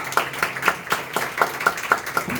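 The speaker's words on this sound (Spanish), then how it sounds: "Dale aplausos." A church congregation claps in a steady, quick rhythm during a sermon. The claps are evenly spaced and continuous, with no voices on top.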